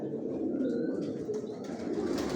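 Pigeons cooing in a rooftop loft, soft low murmuring coos running steadily throughout at close range, with no talk.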